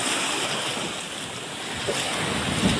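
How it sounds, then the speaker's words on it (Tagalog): Big ocean waves wash in a constant, loud roar on Burias island, Philippines, with gusty wind noise over the surf. "Grabe yung laki ng alon."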